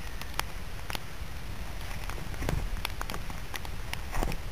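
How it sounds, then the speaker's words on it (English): Rain in a video game, a steady hiss of falling rain with scattered sharp drop taps throughout, fairly even and close with no talk. "All of a sudden it started raining."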